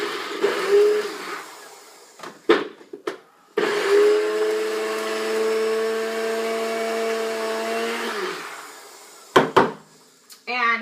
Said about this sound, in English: this is my NutriBullet, and it's a dry